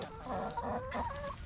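A rooster clucks close by in a muddy farm pen, a quick run of throaty, chattering clucks with no talk over them.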